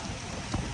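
Steady rain falls in a hilly area, a dense even hiss of drops hitting surfaces with a low rumble underneath and no one talking.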